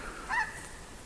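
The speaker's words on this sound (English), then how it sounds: "What was that? A bird of some kind, huh?" Bird calling outdoors in woods, a single short honking call at moderate distance, brief and alone against quiet background.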